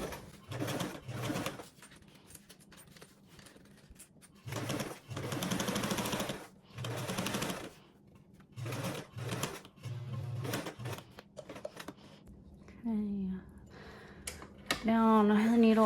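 A home sewing machine runs in several short bursts of stitching, pausing between runs as a cornered seam is sewn, with a person talking and soft handling noises in the gaps.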